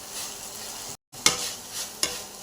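A chicken sandwich frying in a pan gives a steady, close, soft hiss with a few brief sharper crackles, set down and stirred, with no talking.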